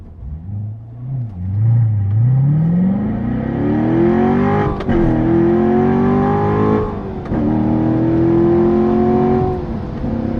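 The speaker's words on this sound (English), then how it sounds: "we'll try a little run down the hill, up through the gears." A 460-horsepower car engine revs up steadily downhill, pitch climbing through the gears with brief dips at each shift, loud and close throughout.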